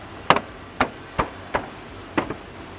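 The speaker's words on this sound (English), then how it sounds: "we're just gonna clip the grill back into the front fascia" A plastic grille on a 2025 Nissan Frontier pickup is pressed back into the front fascia, giving five or six sharp, close plastic clicks and knocks spaced about half a second apart, with no talking.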